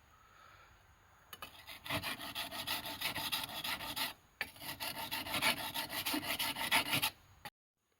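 A metal file rasps along the edge of a survival knife replica blade from Resident Evil 6, with steady back-and-forth strokes in two long runs separated by a brief pause, loud and close.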